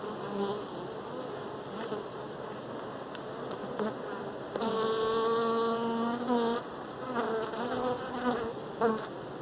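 Honey bees buzz at an open beehive, a close, steady hum that swells and shifts pitch as individual bees pass near, with no voices.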